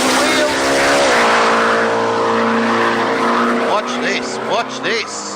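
Drag race car launching down the strip at a drag racing event, a loud, sustained engine roar that rises in pitch and fades as the car pulls away, with a person talking over it.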